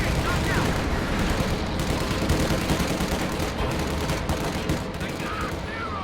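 Dense, continuous gunfire fills a battle in the strategy game Company of Heroes 2, with US and Soviet forces fighting Wehrmacht and OKW heavy infantry, a steady loud rattle of rifles and machine guns without pause.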